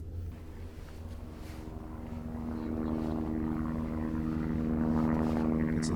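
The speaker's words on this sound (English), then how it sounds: "onder you couldn't fly your drone here, Daz, with all these helicopters flying around." Aircraft engine drone overhead, taken as helicopters flying around a beach event, a steady rumble that slowly swells and grows louder with no talk over it.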